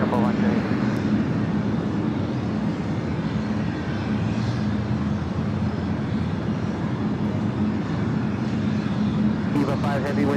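A Boeing 777-300ER jet airliner at Los Angeles International Airport gives off a loud, steady, broadband roar that holds for the whole stretch, with radio voices talking underneath.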